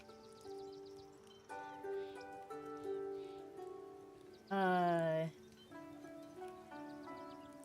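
Horse hooves clip-clop in a video game amid layered game music, with a loud horse neigh rising in the middle before the tones continue.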